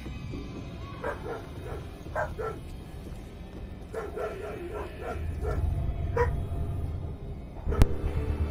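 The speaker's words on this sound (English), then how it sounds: "sorry about the dogs" Dogs bark and yip indoors in a house, a series of scattered short barks at a moderate distance beneath a steady background hum, with no talk.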